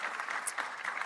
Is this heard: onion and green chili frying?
no